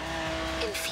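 Ferrari FXX race car in Forza Horizon 3, engine droning steadily with a brief whoosh near the end, under someone speaking German.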